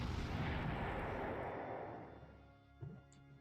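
Artillery fire from the World War II strategy game Panzer Corps: a heavy, dense boom that fades over about two seconds, followed by a quieter, short thud near the end, with no talking.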